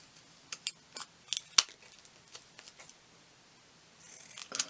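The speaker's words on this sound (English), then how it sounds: "My scissors will need sharpening till I cut through this." Scissors snip through material in a series of short, sharp crisp cuts, close and fairly quiet, irregularly spaced with a brief pause before a final rustle.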